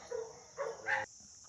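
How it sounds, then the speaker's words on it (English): A neighbour's dog barking, two or three short muffled barks heard faintly at a distance, then quiet. "it's constantly barking all the time. Just like that."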